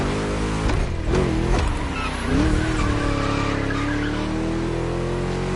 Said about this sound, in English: Just listen to that V8,